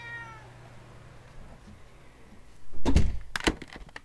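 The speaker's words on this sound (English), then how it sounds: "That's my black cat." Daisy, a black house cat, gives a short, close meow at the very start, then goes quiet before a couple of loud thumps and knocks near the end.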